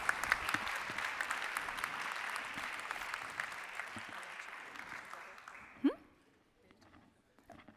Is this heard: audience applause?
yes